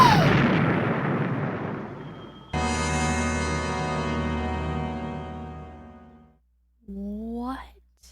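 A detonation from a Star Trek episode as a crystal planted in a necklace blows up: a loud broadband burst that decays over a couple of seconds, then a sustained ringing tone fading out, followed by a brief rising electronic whine.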